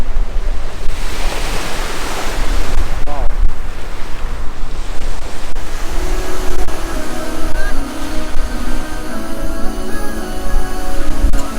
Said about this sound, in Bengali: এই হচ্ছে ভূমধ্য সাগর, মেডিটেরানে